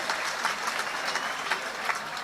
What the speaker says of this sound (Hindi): मुझे एक बार ताली बजाकर आप लोग अनुमति दे दें।